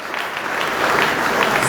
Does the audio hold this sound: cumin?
no